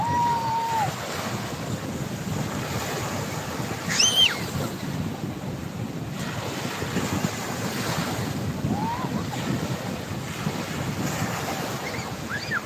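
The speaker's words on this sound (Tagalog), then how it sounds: "Medyo maalon-alon ngayon." Steady ocean surf washing and rumbling on a rough day at Balogo beach, with wind buffeting the microphone, a few faint distant calls rising briefly above the waves.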